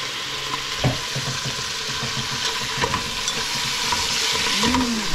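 Chicken added to a pot of macaroni soup cooking on the stove, a continuous sizzle with scattered scrapes and clinks of stirring, close by and with no talking.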